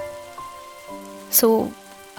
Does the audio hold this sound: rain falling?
yes